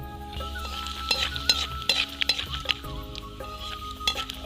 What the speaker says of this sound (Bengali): তো এবার আমি কিছু বাদাম নিয়েছি বাদামগুলো ভেজে নেবো